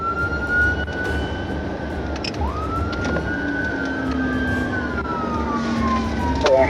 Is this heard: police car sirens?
yes